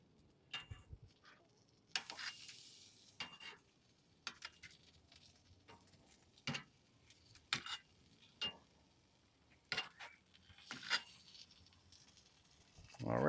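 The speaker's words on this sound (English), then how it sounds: "we'll give these sausages a flip" Hot honey creeper sausages are turned over on a charcoal grill: a quiet run of scattered clicks and light taps, spaced out irregularly over a faint background.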